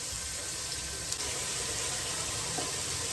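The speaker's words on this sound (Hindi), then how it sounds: "इसमें थोड़ा थोड़ा पानी डालता है।" Water is poured into a cooking pan of spiced masala, giving a steady, broad rushing hiss that runs evenly at moderate loudness for the whole stretch with no voices.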